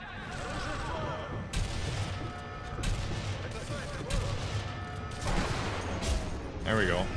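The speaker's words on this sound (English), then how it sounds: "They're firing their missile." Missile or rocket launch in Sniper Elite V2 at the Kopenich launch site, heard as repeated booming blasts and rumbling gunfire-like bursts, with a voice briefly speaking near the end.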